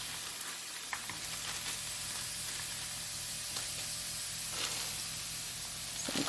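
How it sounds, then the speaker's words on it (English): Canned mushrooms frying in a very hot oil-free pan for vegan enchiladas, a soft steady sizzle with a few brief scraping stirs scattered through. "my pan is pretty hot, so it's probably too hot"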